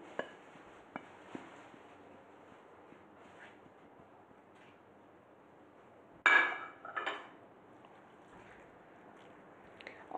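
Cheese is mashed and the filling mixed for maakouda with parsley, a few light clinks and taps of a utensil against a bowl, mostly faint with a brief louder scraping burst midway.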